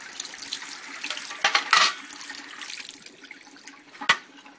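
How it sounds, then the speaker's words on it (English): A removable espresso machine part rinsed under a running tap, a steady splashing hiss of water with a couple of louder gushes as the part is moved through the stream, close by. "This got dirty, so I'm going to rinse that out. I'll just rinse it out like that."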